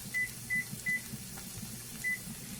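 Four short kitchen timer beeps, three in quick succession then one more after a pause, over a low background hum while cooking.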